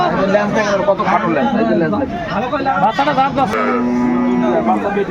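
Dairy cows and calves of improved breeds low and moo repeatedly at a busy livestock market in Aftabganj, Dinajpur, their calls overlapping with nearby chatter and a crowd murmur.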